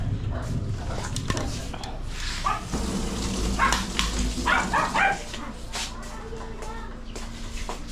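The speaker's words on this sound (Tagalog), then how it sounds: "Ay, mga tuta namin." Puppies at a riverside home bark and yip in short scattered bursts, some near and some farther off, over a busy outdoor background.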